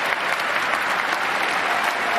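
Applause from a crowd at a presidential inaugural speech, a dense, steady wash of clapping holding at an even level throughout.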